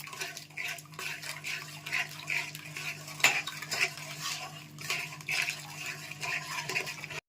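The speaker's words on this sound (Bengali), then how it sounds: "দই দিয়ে সমানে নাড়া দিতে হবে" Spoon scraping and clinking in a pan as spiced cabbage curry masala is stirred steadily with whisked yogurt, with irregular metallic taps over a low steady hum.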